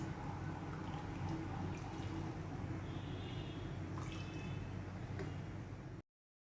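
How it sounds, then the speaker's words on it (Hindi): Chicken yakhni broth is poured through a strainer, giving a continuous, fairly faint liquid pour with small drips and splashes that stops abruptly. "यहाँ पे जो हमारे पास यखनी है इसको हम एक दफ़ा छान लेंगे"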